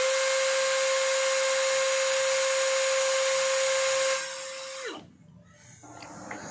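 A steady, high-pitched whine from a Bosch GSB185-LI cordless brushless drill running at speed setting 1 in drilling mode, then it winds down abruptly near the end, leaving quiet background noise.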